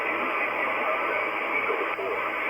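Steady HF amateur radio static hisses throughout, with a faint, barely audible backscatter signal buried in the noise.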